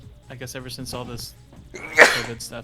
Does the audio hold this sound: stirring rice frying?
no